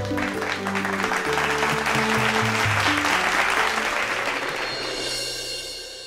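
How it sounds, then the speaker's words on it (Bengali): Loud, sustained applause from a studio audience on a Bengali television show fills the whole stretch, blended with tonal background music and fading slightly toward the end. "তাহলে একটা জোরে হাততালি হয়ে যাক।"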